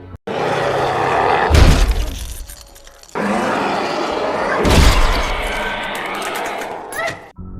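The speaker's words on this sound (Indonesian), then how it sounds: "makhluk itu terus mendobrak pintu kaca seorang diri" A creature repeatedly ramming a glass door in the film I Am Legend, two heavy booming impacts a few seconds apart with shattering and cracking, amid loud roars and dramatic noise.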